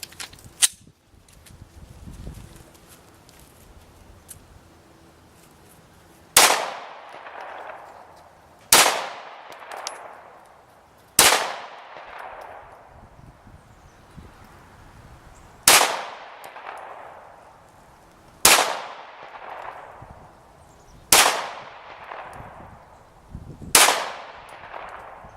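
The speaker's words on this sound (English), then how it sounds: "the next one we'll shoot the bottom target down there. And we'll put 10 rounds on that." Ten gunshots strike a steel target one after another at a shooting range. The shots come at steady intervals of a few seconds, and each sharp crack is followed by a ringing metallic clang that fades away.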